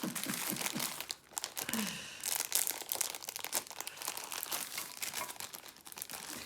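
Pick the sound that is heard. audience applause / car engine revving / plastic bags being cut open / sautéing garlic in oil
plastic bags being cut open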